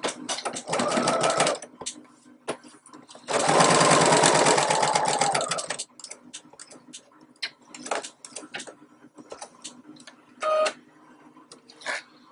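A sewing machine stitches a keyboard bag in short runs, its rapid mechanical chatter starting and stopping, with one long burst and sparse clicks and taps between runs, close and clear.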